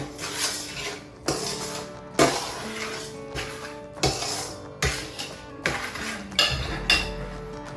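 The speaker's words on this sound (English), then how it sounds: "I kind of use the back of the spoon just to kind of warm the dressing and mix it" A spoon works potato salad dressing in a bowl with its back, giving a series of close, sharp clinks and scrapes about every second, ringing briefly against the bowl, with no speech.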